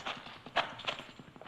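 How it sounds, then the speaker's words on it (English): Several horses clip-clop away at a trot along a dark gulch, their hoofbeats quick and fairly faint in the distance, with no voices. "Horses, they're riding off."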